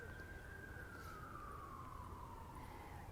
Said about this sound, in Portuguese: Dá até pra escutar uma sirene lá fora.